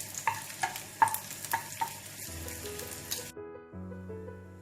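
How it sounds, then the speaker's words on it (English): Chopped garlic sautés in oil in a non-stick pan, with a soft sizzle and several sharp stirring clicks and scrapes early on, then the frying settles into a quieter hiss while a low tonal hum lingers. "To this, first I am going to add the roughly chopped garlic."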